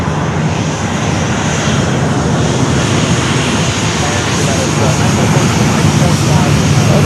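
Southwest airliner moving fast along a taxiway at Fort Lauderdale airport, a loud, continuous engine roar that builds gradually, with a voice talking over it.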